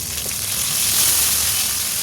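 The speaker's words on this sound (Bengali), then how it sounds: "আদাটা প্রচণ্ড ফাটছিল, সেই জন্য নুন দিয়ে দিলে আদাটা আর ফাটে না" Ginger-chilli paste with salt fries in a hot pan, a steady, loud, close sizzle of spluttering oil that runs the whole stretch with no voices.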